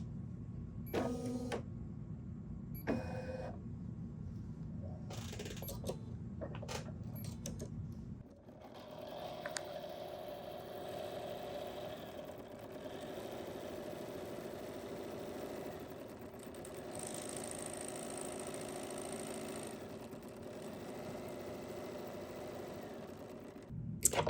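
A BERNINA embroidery machine stitches out a quilting design, a faint whirring hum with steady rapid needle pulses; a few short motor buzzes come first, then continuous stitching runs alone for the rest.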